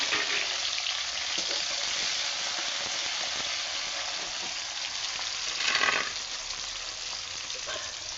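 Chopped onion frying in oil with five-spice seeds for a vegetable dish, giving a steady close sizzle throughout with a brief louder surge near the end.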